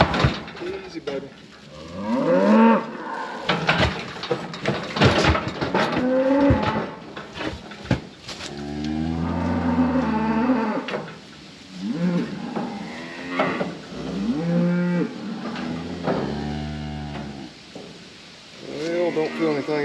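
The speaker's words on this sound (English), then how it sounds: "she's not a real old cow" A cow lowing repeatedly in long, loud, drawn-out moos at a cattle handling facility, mixed with people talking nearby and clanking and rustling from the pens.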